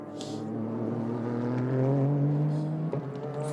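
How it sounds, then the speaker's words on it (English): A 500 bhp JGTC race car accelerates hard out of the last turn. Its loud engine note climbs steadily in pitch as it pulls away, with a brief dip near the end. "500 brake horsepower powering out of last turn"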